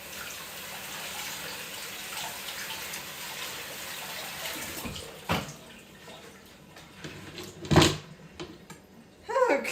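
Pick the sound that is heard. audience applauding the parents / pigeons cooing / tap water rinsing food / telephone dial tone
tap water rinsing food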